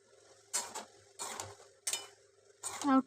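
Potatoes being stirred with spices in a pan, a spoon scraping and clinking against the metal in three or four short bursts separated by quiet pauses, close and fairly quiet.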